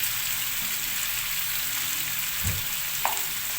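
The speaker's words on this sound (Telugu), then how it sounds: "కొంచెం ఈ ఆయిల్లో ఇలా అల్లం వెల్లుల్లి పేస్ట్ కొద్దిగా ఫ్రై చేసుకునండి." Ginger garlic paste frying in hot oil for a chicken dry roast gives a steady broadband sizzle throughout, with a soft low thump near the middle and a brief clink toward the end; no voices are heard.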